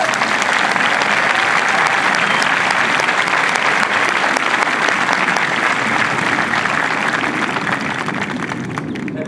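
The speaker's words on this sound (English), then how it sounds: "let's give all of our MTIs a round of applause" Sustained applause from a large crowd of family and friends at an Air Force Basic Military Training graduation parade, loud and steady for the whole stretch, tapering slightly at the end.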